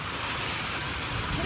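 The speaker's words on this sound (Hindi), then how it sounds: "आज फिर बारिश हो गई है" Steady broadband hiss of rain falling on a cloudy day, a constant close wash of drops with a faint airy rumble underneath and no distinct talk.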